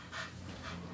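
A dog pants in quick, steady breaths, close and fairly quiet, with no other sound over it.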